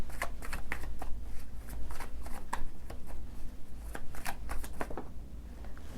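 Tarot cards shuffled by hand for a reading, a steady run of crisp riffling and flicking bursts close up, heard alone without talk.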